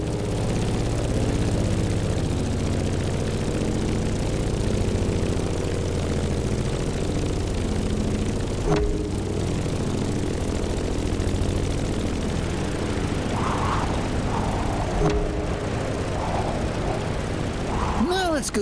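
A Grumman F8F Bearcat's propeller engine drones in The Crew Motorfest, a steady low rumble with a few brief clicks and whooshes near the end, while a voice talks over it.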